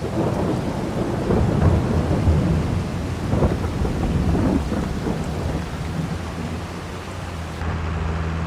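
Steady rain and rolling thunder in the video game Farming Simulator 22 rumble continuously at even loudness, a dense wash of drops with low booming swells and no talking.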